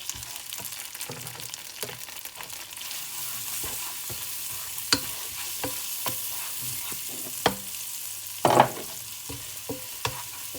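Meatball curry stirred in a pan over a low, steady sizzle, with scattered clicks and a few sharp scrapes and knocks of the spoon against the pan, close and without talk.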